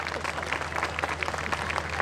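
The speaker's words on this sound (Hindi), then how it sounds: "एक बार बजाइए ताली।" At a Hindi poetry recital, an audience claps steadily throughout at moderate volume, with a low hum beneath the applause.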